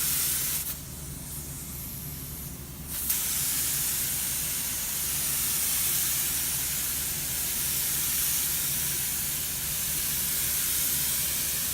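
A spray gun hisses continuously at close range, spraying metal flake onto a fiberglass boat repair. It pauses for a moment early on, then resumes in a long, steady spray.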